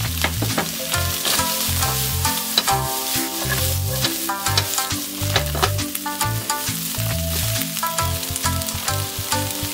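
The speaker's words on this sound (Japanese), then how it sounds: "炒めていきます。" Bean sprouts stir-fried in a pan for Okinawan tofu champuru sizzle loudly and steadily, with repeated scraping and clacking of the utensil against the pan in an uneven rhythm; music plays underneath.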